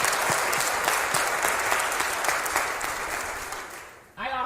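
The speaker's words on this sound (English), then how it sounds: "I want to give a round of applause to" Sustained applause from an audience honoring newly sworn-in leaders at an NAACP branch ceremony in Cleveland, dense and steady before fading out, with a voice starting up at the very end.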